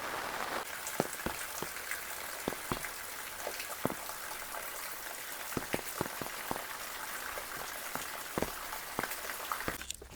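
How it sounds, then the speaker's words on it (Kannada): Heavy rain pours steadily at a home garden where sweet potato and cassava are being planted in grow bags, a dense continuous hiss broken by frequent sharp drops or drips, with no voices. "ಮಳೆ ಜೋರಾಗೋಯ್ತು, ವೀಡಿಯೋ ಮಾಡೋಕ್ಕಾಗಲ್ಲ ಇವಾಗ."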